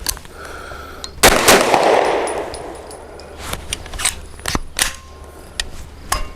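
Several sharp gunshots from a Grand Power Stribog SP9A3G 9mm carbine firing Hornady Critical Duty 135 grain rounds outdoors, loud impulsive cracks spaced unevenly with ringing decay between them.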